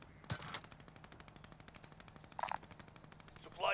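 Video game gunfire in short bursts of rapid shots, one loud burst early and another mid-way, heard against a steady background of in-game sound.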